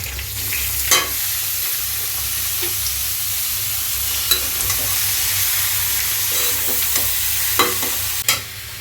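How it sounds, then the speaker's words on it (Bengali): Papaya sizzles steadily as it is stir-fried in a pan with browned onion and chopped green chilli, a continuous close frying hiss broken by occasional sharp scrapes and knocks of the spatula. "দিয়ে দিলাম পেঁপেটা বাগার"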